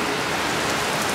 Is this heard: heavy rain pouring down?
yes